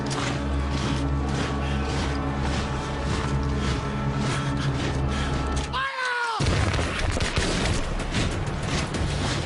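A ceremonial volley of muskets fires on command in a historical reenactment: steady crowd and ambient noise, then one sharp, loud blast near the middle, followed by a brief whistling ring and a scatter of noise.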